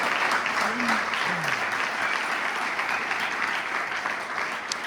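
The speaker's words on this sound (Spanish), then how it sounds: "Apláudale bien fuerte, si le va a aplaudir al Señor." A church congregation applauds loudly and continuously for several seconds, a dense even wash of clapping with a few voices calling out beneath it.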